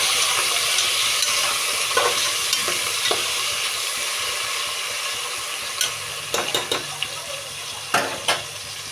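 Onion, green chili and tomato fry in oil for a prawn biryani, with a loud steady sizzle that settles down before a run of spatula scrapes and clinks against the pan. No speech is heard.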